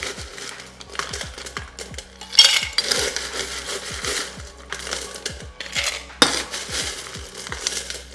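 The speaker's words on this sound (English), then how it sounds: "We start off in our shaker, fill with ice." Ice cubes rattle and clatter into a metal cocktail shaker for a Sex on the Beach cocktail, a dense run of sharp clinks and knocks in bursts with louder dumps, close and with no talk.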